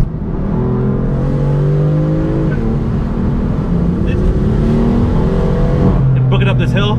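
A BMW M4 climbs a hill under load, its engine droning loudly and steadily from inside the cabin, pitch rising and settling through gear changes, with brief speech near the end.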